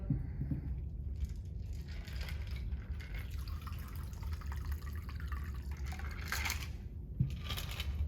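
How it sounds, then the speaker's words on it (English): A cocktail is strained into a glass holding cucumber slices, with a steady liquid pour and light splashing continuing throughout, close and moderately quiet. "we are going to strain our cocktail"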